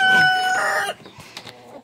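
A rooster crows loudly and close by in a garden henyard at feeding time, one long drawn-out call followed by a few softer clucks and scratchy farmyard noises.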